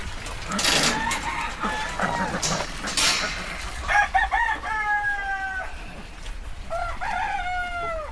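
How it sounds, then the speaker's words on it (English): Several roosters crow one after another, their calls overlapping near and far, with scattered clucking and rustling in between. "It's the Rooster Symphony."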